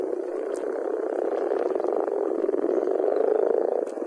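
A dense chorus of male brown frogs calling continuously in a shallow, sun-warmed wetland pool, a steady low croaking purr with no gaps, fairly close and moderately loud.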